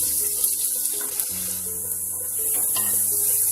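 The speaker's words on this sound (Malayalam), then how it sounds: "ഇതിന്റെ പച്ചമണമെല്ലാം മാറി നല്ല ബ്രൗൺ കളർ ആകുന്നത് വരെ നമുക്ക് നന്നായി ഒന്ന് ഇളക്കി കൊടുക്കാം" Masala for a Kuttanad-style Aavoli fish roast frying and being stirred in a pan, a soft steady sizzle with light scraping under background music, no talking.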